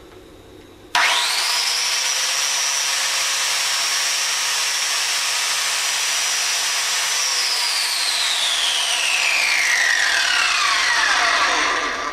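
A Fein grinder starts up abruptly and runs steadily at idle with a loud, high whine, then spins down toward the end as the pitch falls away; no talking.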